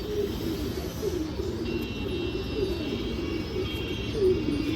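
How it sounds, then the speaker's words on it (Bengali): Four newly acquired pigeons coo in low, warbling phrases that repeat steadily over a constant hum of background noise. No voices are heard. "এটা হচ্ছে 4টা নতুন কবুতর"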